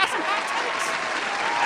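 An audience claps briefly at a steady level, a dense crowd of hands with no pauses.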